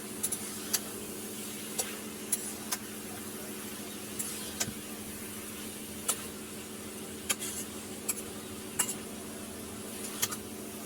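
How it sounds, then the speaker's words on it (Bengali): Gourd and lentil curry cooking in a pan with ginger-garlic paste, low steady sizzle beneath sharp intermittent clinks of a spoon against the pan as it is stirred, close and moderately quiet. "নাড়াচাড়া করে নেব।"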